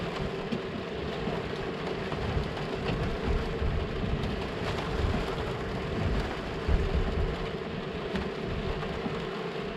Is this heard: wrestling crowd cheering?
no